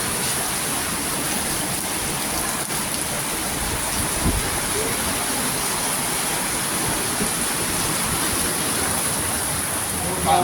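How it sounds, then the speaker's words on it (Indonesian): Steady rain falling in a windy downpour, a constant broadband hiss that fills the whole clip, with faint voices now and then underneath. "Hujan."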